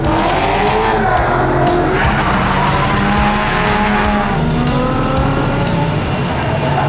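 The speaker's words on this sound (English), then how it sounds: "We got Fielding driving the SLC 2JZ swap." A drift car with a 2JZ engine swap at a drift event skids with sustained, loud tire squeal and a revving engine, continuous and close for several seconds.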